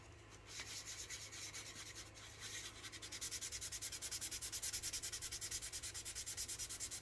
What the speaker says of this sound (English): So we're just going to keep sanding this for a little bit, smoothing everything out